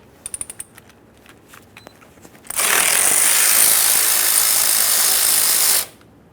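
Working on a 1994–2001 Dodge Ram 1500 outer tie rod sleeve: a few sharp ratchet clicks on the 15mm clamp bolts, then a loud, steady whir of a power tool running for about three seconds before cutting off, close by.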